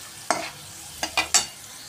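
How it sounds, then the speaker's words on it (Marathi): Mirgund, sago and poha crisps, hitting hot oil for frying, four short bursts of crackling sizzle, one then a quick trio, each fading fast over a quiet background. "थोडेसे मिरगुंड मी तुम्हाला या ठिकाणी तळून पण दाखवलेले आहेत"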